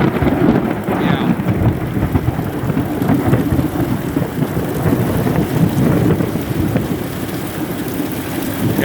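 Heavy rain pours steadily with a dense, continuous wash and deep rumbling thunder outdoors during a stormy spell, no one speaking.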